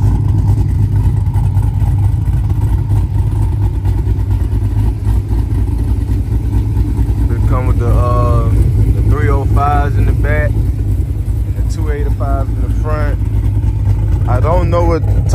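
A cammed Chevrolet Camaro SS 1LE running E85 with a full exhaust system idles loud and close, its deep, steady rumble continuing throughout while a person talks over it in the second half.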